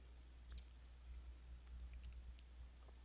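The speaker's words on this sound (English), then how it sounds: "Then we click on the index button again." A couple of quick computer mouse clicks close together, crisp and close but quiet, followed by faint low room hum and small scattered ticks.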